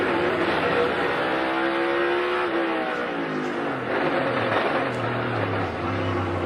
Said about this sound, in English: And you hear that ratcheting sound.